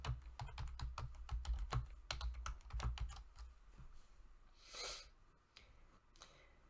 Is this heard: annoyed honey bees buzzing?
no